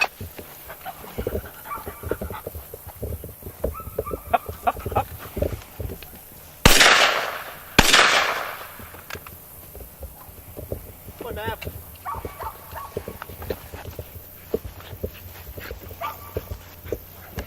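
Two sharp gunshots fired in quick succession during dog retrieve training with doves, loud and close, standing out over an outdoor background of dog whimpers and movement.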